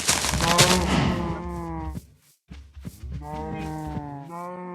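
A cow moos loudly and close by, a long low call, then after a short pause two more drawn-out moos follow.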